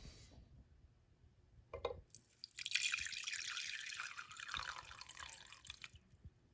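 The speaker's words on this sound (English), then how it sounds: "So let's put the water in." Water trickles and splashes steadily for a few seconds after a brief knock, a soft close pour into a Phalaenopsis orchid's plant pot.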